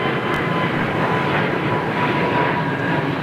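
Boeing 787 Dreamliner jet departing Heathrow, a steady loud broadband engine roar that holds without a break, close and unbroken, with no voices.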